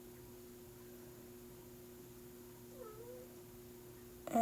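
A cat meows faintly at a door inside a quiet room with a steady electrical hum, giving one soft drawn-out meow followed by a louder sudden sound at the end.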